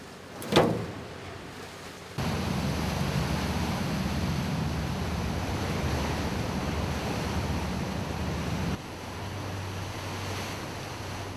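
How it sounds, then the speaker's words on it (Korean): Open-sea waves and wind wash around a hospital ship heading toward remote islands, a steady broad rushing roar that holds level after a brief thump near the start, then eases slightly toward the end. "선원들의 조급한 마음을 아는지 파도가 잔잔해졌다"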